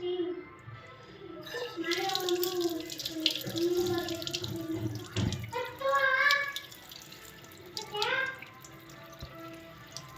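Tap water runs steadily over a cut hand at a sink, a continuous close splashing flow with voices talking over it throughout.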